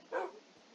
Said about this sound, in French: Il y a eu un chien.